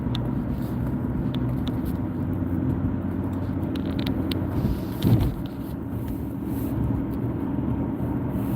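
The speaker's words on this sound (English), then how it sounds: "I'm driving in a damn dark New York City BX." A car driving at night through the Bronx in New York City, a steady low engine and road rumble inside the cabin, with a brief louder thump around the middle.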